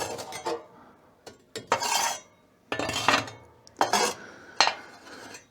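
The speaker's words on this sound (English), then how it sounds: "I just slowly scoop the ashes into the hole there" A metal scoop repeatedly digs and scrapes ashes inside a wood stove, with several rasping, gritty strokes separated by short pauses, close and clear.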